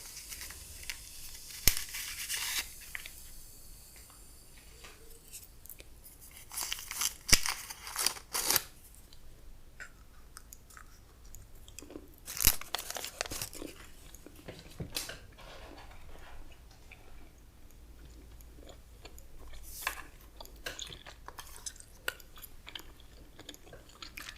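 Juicy Fruit chewing gum being unwrapped and chewed close up in a quiet whisper-style setting, with soft crinkling of the wrapper and scattered small wet mouth clicks spread across a long, faint stretch without talking.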